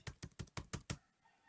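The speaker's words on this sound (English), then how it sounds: "So coming back to here, I'm typing B, it will never press anymore." Six crisp, evenly spaced taps on the B key of a computer keyboard, each a sharp close click, then quiet.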